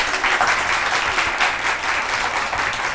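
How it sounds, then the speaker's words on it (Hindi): A studio audience on a television morning talk show breaks into loud, dense, continuous applause, heard close and on its own for a few seconds. "तालियां बजा के बताइएगा"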